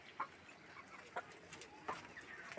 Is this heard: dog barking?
no